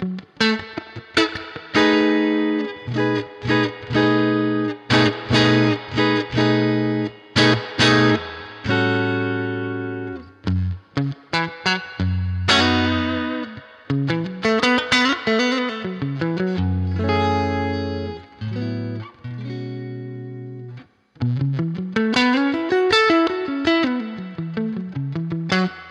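Electric guitar played through a Universal Audio Dream 65 Reverb amp plugin with breakup distortion, sounding chords and single-note riffs in loud, crunchy bursts separated by short pauses, alone without talk.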